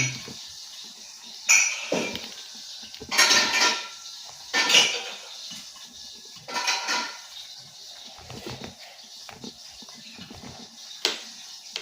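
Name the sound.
slicing boiled kamansi (breadnut) with a knife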